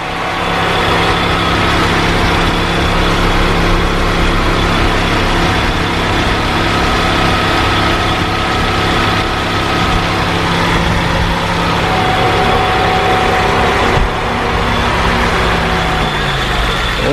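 A 2003 Nissan Sunny Neo 1.6-litre petrol engine with automatic transmission idles steadily and loudly with a constant low rumble and hum, unchanging throughout, with no voices.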